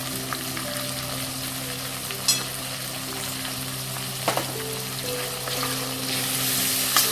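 Potatoes fry in a pan with salt and turmeric, sizzling steadily close up while a spoon stirs them, with a few sharp scraping clicks against the pan.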